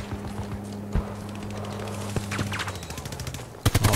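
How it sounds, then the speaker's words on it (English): Sniper gunfire in the Battlefield 2042 video game, a few sharp, separated shots cracking over a steady game hum, followed by a quicker burst of gunfire at the end. "And we're getting sniped at."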